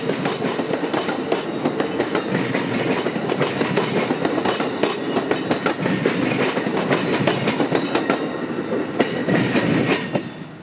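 Freight train PO91 rolls past continuously on the S-Line, a dense, loud rumble of wagons with rhythmic clickety-clack of wheels over rail joints and occasional metallic squeals, sustained throughout without speech.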